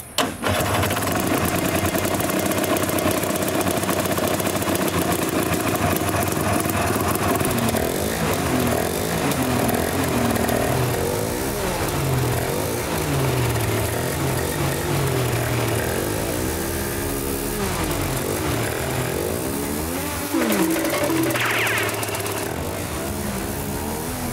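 A hovercraft engine starts and then runs continuously: a loud, close, steady droning roar with shifting pitch that holds throughout, with no talk over it.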